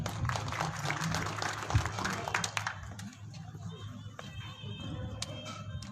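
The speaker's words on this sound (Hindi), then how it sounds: "कलेक्टर साहब के लिए जोरदार ताली हो जाए।" An audience at a Republic Day ceremony in a government stadium applauds loudly at first. The clapping then thins out to scattered claps while a speaker's voice carries over a public address system.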